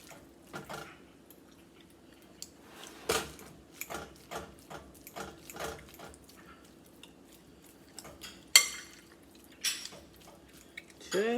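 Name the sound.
mashing cooked sweet potato with a fork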